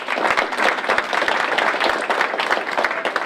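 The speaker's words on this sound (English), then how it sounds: "So let's give them a round of applause." A crowd at a city council and mayoral primary debate claps steadily, a dense patter of many hands applauding without a break.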